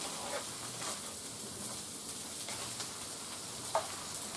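Ground beef coated in Sriracha Tamari sauce sizzles steadily in a hot pan, a continuous close crackling hiss with a few sharper pops and brief stirring scrapes, heard alone.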